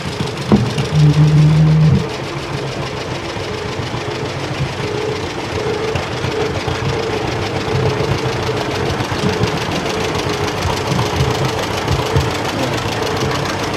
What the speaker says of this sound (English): Next we have a 1937 John Deere AR owned by Chuck and Carlene Fidel